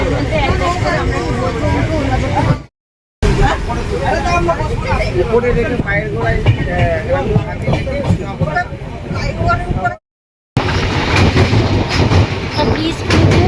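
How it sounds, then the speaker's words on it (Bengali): The Uttarbanga Express rolls along after leaving New Jalpaiguri, a loud, continuous rumble with rhythmic clickety-clack from the carriage wheels and a hum of passenger chatter inside, cut by two brief silent gaps. "15-20 মিনিটের মধ্যে ট্রেন ছেড়ে দিয়েছে।"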